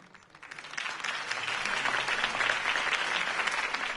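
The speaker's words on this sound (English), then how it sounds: "could have heard that applause" A crowd applauds a campaign speech in Telltale's Batman game, clapping that swells up from a quiet start into sustained, dense applause lasting to the end.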